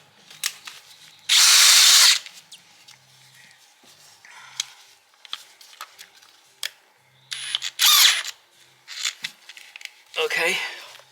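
Power drill with an old Jacobs chuck whirring in short, loud bursts of a second or so, separated by clicks, tool handling and quiet workshop noise during an oil pump job.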